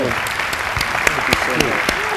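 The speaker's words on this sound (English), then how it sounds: "Can we give our panel a round of applause?" An audience at a civil rights panel discussion applauds the panel, a steady patter of clapping with voices talking over it throughout.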